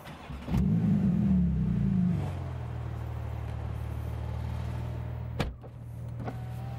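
A Porsche GT2RS starts up with a sharp catch and a loud rev that settles into a steady low idle, followed by a couple of brief clicks.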